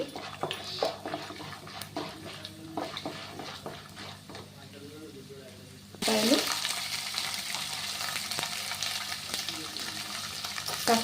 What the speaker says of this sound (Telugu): మినపప్పు అన్నీ కాస్త వేస్తున్నాను. కాస్త ఫ్రై చేసుకొని